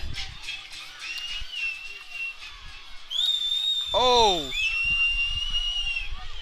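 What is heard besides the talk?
whistling from spectators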